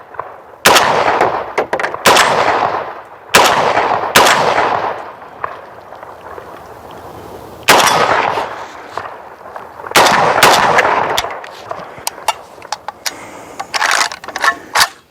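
A PSA AK rifle fires at an outdoor shooting range, aimed at a steel popper target. Loud, sharp reports come in irregular clusters over fifteen seconds, with a few quick doubles and brief gaps, and no talking.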